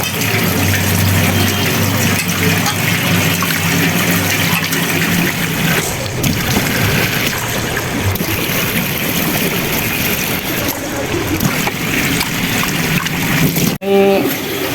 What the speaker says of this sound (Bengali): এই যে আমি ডালগুলি ভিজিয়ে রাখতেছি।